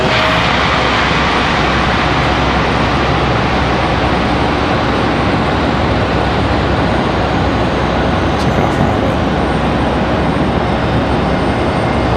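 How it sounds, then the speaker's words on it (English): A Boeing 737 MAX 9 at an airport runs up its jet engines, a loud, steady broadband roar that holds constant throughout with no voices. "So this Mad Max 9 will start up here in a minute."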